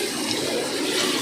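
Steady, close rush of tap water running while raw chicken is washed for chicken nihari, a continuous broadband splashing with no talk.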